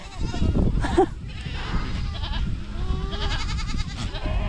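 Spanish goats bleat repeatedly, several animals calling close by with wavering, nasal cries over a steady outdoor pasture background.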